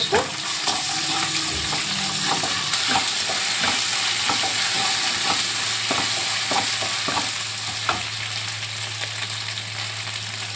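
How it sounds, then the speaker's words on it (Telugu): Chopped onions fry in a pan for a Telugu capsicum fry, a constant close sizzle punctuated by repeated clicking stirs and scrapes of a spoon. "కట్ చేసుకున్న ఉల్లిపాయ ఉల్లిపాయ మంచిగా వేగింది"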